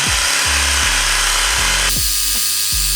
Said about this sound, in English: Now here I attach this air compressor